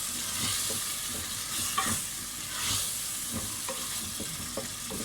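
Boiled chickpeas frying in a cooked tomato masala for chana pulao biryani, with a steady close sizzle broken by scraping stirs throughout, with no talking.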